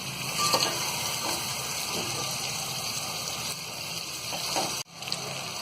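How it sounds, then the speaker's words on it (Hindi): Spices, chickpeas, tomato and yogurt fry in a pan with a steady, close sizzle, briefly interrupted near the end before resuming. "इन सारी चीजों को हम टमाटर दही के पानी के सूखने तक भूनेंगे।"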